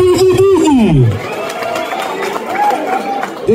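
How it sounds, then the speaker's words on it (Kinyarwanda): Audience applause and cheering from a university crowd during a visit by Rwandan film actors, rising after a speaker's voice fades, sustained and moderately loud. "amashyi menshi cyane kuri"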